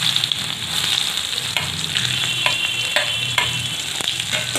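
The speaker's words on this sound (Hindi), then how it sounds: "तो पहले जीरा डालते हैं, हींग, प्याज डाल देते हैं," Cumin seeds, asafoetida and onion frying in a pan over a low gas flame, a steady close sizzle with scattered pops and the scrape of stirring, no voices.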